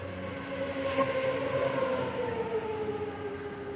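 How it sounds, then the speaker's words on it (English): Loud motorcycle passing by outdoors at a distance, its engine tone holding and then sliding lower as it goes past, heard steadily without speech. "Somebody on a motorcycle."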